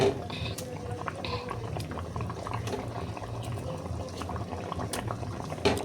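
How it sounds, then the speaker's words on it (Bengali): A curry of rohu fish and elephant foot yam bubbles steadily in a pot, a close, continuous simmering hiss with small pops and no talk over it. "দেখো ঝোলটা ফুটে গেছে"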